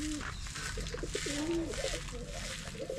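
Surma spotted pigeons coo in a series of throaty, warbling calls close by, with a person's voice and background noise underneath.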